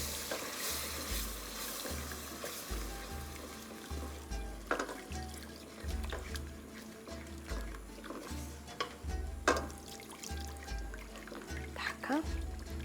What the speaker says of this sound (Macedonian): Сега додавам малку по малку млеко. Со постојано мешање.